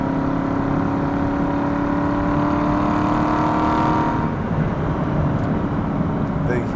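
Aston Martin Vantage with a hand-built 4.7 litre V8 engine, a loud sustained droning roar at cruising speed that rises slightly in pitch, then eases off after a few seconds as someone talks.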